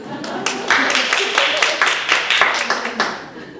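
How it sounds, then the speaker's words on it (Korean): At a parenting seminar, a seated audience breaks into brief applause. Several irregular bursts of close hand claps rise and fall, mixed with people talking. "우리 박수 한번 올려"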